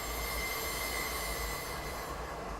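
A runaway CP Rail freight train rolls westbound toward Field on a winter night in Train Simulator 2019, a steady loud rumble with sustained high wheel squeal along curving track, no voices.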